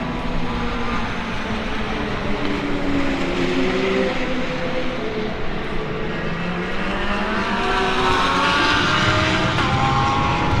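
GT3 race cars, a Lamborghini leading, on the final lap at Autodrom Most, a continuous loud engine roar with rising and falling pitch sweeps as cars pass and shift gears, no break in the noise.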